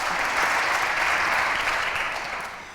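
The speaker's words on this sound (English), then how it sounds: "they deserve a second round of applause" An awards ceremony audience gives a second round of applause for the honorees, a dense, loud burst of many hands clapping together that holds steady and then tapers off toward the end.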